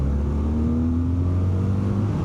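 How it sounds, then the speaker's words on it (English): A BMW R12 nineT motorcycle engine revs out steadily, a loud, continuous engine drone with a slowly shifting pitch that carries through the whole stretch with no one talking. "I'm feeling the character in the engine as I am revving it out"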